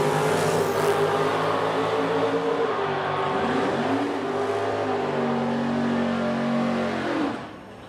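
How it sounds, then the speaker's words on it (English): A Pontiac Grand Am drag car at an Edmonton drag strip accelerates hard, its engine note climbing through rising harmonics and shifting, loud and close, then cutting off sharply near the end. "Driving a Pontiac Grand Am."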